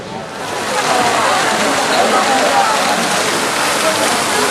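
Rushing, splashing water of small waterfalls in a palace cave garden pond with carp in Spain or Portugal, a steady broadband roar filling the space, fairly loud and continuous throughout.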